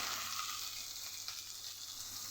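Chopped carrot and capsicum sizzle steadily in a small amount of hot oil in a pan, a continuous close crackling hiss with no talking.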